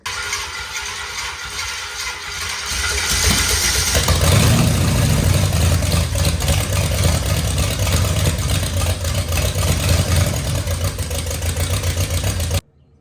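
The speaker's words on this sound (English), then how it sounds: "The motor sounds good." An old 345 engine catches after starting and settles into a loud, steady rough running roar, close by, with a short lower rumble before it builds, then cuts off abruptly at the end.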